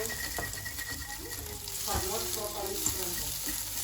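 Scrambled eggs fry in a pan at home, a steady close sizzle and crackle with scraping stirs, while a voice talks briefly over it.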